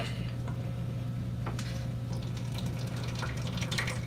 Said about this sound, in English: Just pour a little bit of that sauce into the sink.